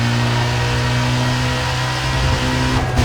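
A race car engine in Need for Speed Most Wanted (2005) revs loudly and steadily, a dense sustained drone with strong harmonics that lifts briefly near the end.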